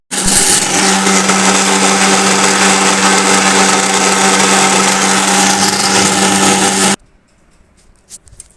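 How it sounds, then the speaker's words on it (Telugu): A mixer grinder whirs loudly and evenly as it blends spinach chutney, a dense motor roar that runs for about seven seconds and then cuts off, followed by faint clatter. "మిక్సీ పట్టుకుందామండి."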